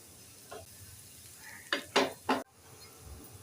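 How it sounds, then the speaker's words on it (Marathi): Jowar flour thalipeeth roasting on a hot pan, a faint low sizzle broken by three sharp scraping and clattering bursts from flipping, then quiet again. "आता हे थालीपीठ दोन्ही बाजूंनी छान शेकलेलं आहे."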